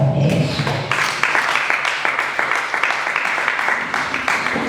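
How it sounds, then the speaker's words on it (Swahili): A church congregation claps together for Jesus, a loud, sustained wash of applause with steady rhythmic hand strikes filling the room, following a brief voice at the start. "Mchapie Yesu makofi kwa Bwana Yesu."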